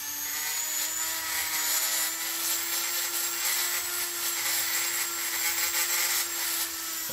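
A grinder works casting defects off a Stihl MS461 chainsaw part, making a continuous loud, high-pitched whine with a steady hum beneath and a gritty grinding texture. It runs unbroken and close for the whole stretch, with no talking.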